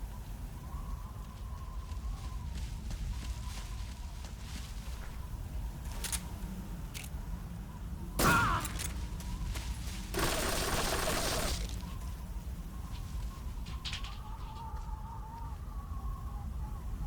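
Gunfire from the video game Metal Gear Solid 3 Snake Eater: one sharp shot, then a longer burst of shots a couple of seconds later, over a quiet game-ambience background. No one speaks.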